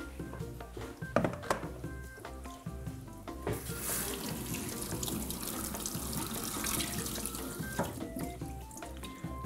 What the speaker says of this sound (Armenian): Նախ ցայենք սառը ջրի տակ